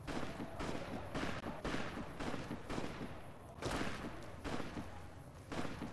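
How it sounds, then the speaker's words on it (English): Distant gunfire in a Fallout video game crackles in repeated faint bursts of shots, off to one side, over low game ambience with no voices. "You hear gunfire off to the left."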